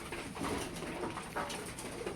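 A pigeon cooing softly in short repeated calls, faint and close in a quiet outdoor setting.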